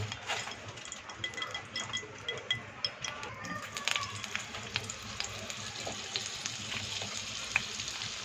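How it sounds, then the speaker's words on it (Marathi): Vegetables sauté in oil with a little butter, a steady close sizzle overlaid by frequent light scraping and tapping of a spoon against the pan, moderately quiet throughout. "ही भाजी आहे ना ती तेलामध्ये थोडीशी परतवून घेणार आहे मी तेल टाकलं थोडासा बटर टाकणार आहे"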